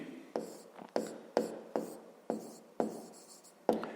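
A pen or pencil writes numbers by hand on paper for a school maths exercise, making a run of short, close scratchy strokes in a steady rhythm of about eight marks, with no talk.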